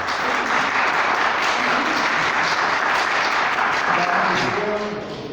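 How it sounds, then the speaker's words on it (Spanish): Sustained audience applause fills a lecture hall for several seconds, steady and dense with clapping from many hands, tapering slightly toward the end. "el profesor David Esteban Hernández Granda, para quien yo pido un aplauso, que ha trabajado tanto."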